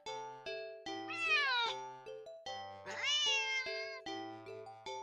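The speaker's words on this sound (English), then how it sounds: "That sounds like you when you meow." A cat meows twice in a horror video game, drawn-out rising-and-falling cries over sustained eerie tonal music, close and distinct.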